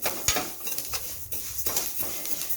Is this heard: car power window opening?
no